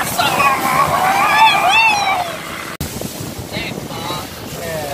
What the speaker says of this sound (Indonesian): Memasuki Sungai Musi, ombak semakin kencang sehingga kami semua menjadi basah.